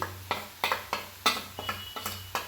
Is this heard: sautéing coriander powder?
yes